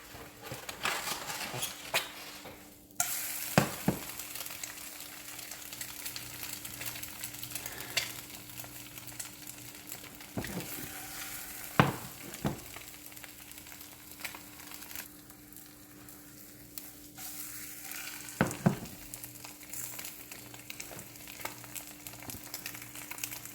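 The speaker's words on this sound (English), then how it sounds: "Alright, that's how you flip an egg." Eggs fry in a pan and get flipped, heard as a soft, steady crackling sizzle with occasional sharp spatula taps and scrapes across the pan, close up and without talk.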